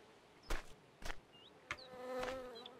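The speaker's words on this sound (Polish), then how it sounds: "Czyli te pszczoły." Bees buzz close by, with a few sharp knocks cutting in and a steady drone building toward the end.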